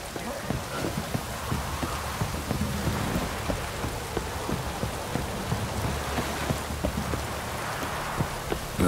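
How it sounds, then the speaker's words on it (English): Heavy rain in the video game The Witcher 3, a steady dense hiss of downpour with patters and occasional low rumbles, continuous and fairly loud throughout. "This downpour's a bastard"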